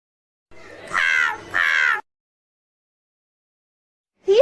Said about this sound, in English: There was a crow.